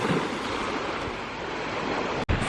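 Surf rolls in steadily on a windy sandy beach, a constant broad wash of breaking waves mixed with gusty wind buffeting the microphone, with one brief dropout near the end.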